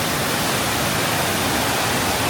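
Steady, loud rush of the Triglavska Bistrica river flowing near a footpath by the last houses of Mojstrana, a dense continuous wash of water with no voices.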